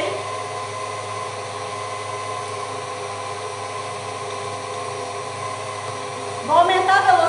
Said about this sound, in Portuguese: A manteiga tá amaciando aqui na minha batedeira, eu vou começar a despejar o açúcar